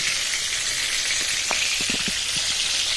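Chicken pieces frying in a little oil in a home kitchen, a steady bright sizzle with occasional soft stirring knocks, close and continuous.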